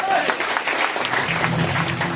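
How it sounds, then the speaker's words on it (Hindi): Applause from a live audience at a Hindi motivational talk, a dense steady patter of many hands clapping at moderate distance throughout. "तो इसी बात पे ताली होनी चाहिए।"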